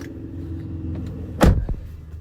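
A car door opens on a new car whose engine is running, a sharp mechanical unlatching clunk followed by a brief second thud over a low idle hum.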